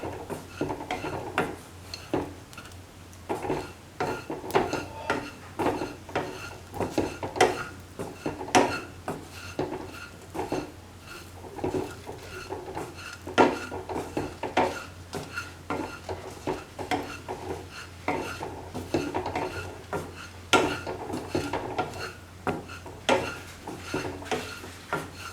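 A spoon stirs coriander powder into an okra and ground cashew stew mixture, making steady soft scraping and frequent light knocks against the pot that run on and on at a moderate level with no voices.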